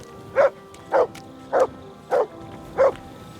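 Dog barking in Kingdom Come: Deliverance 2, five evenly spaced, fairly loud barks about half a second apart, close by and clear against a quiet background.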